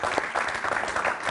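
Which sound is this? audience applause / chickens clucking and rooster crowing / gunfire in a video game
audience applause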